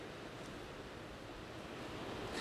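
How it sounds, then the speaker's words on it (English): Hurricane Dorian's wind and rain, a dense, steady roar of gusting wind and pouring rain that fills the whole clip at a constant level, with no talking. "we're getting that rain, we're getting that wind"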